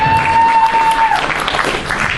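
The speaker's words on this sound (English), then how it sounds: "Simply applause." Audience applause at a comedy showcase, a short burst of clapping that swells in after a held tone fades, filling the rest of the moment.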